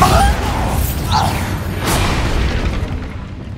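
Bombarda blasting spell in the Hogwarts Legacy video game: a loud booming burst near the start, followed by sustained rumbling, whooshing combat noise with faint voice traces.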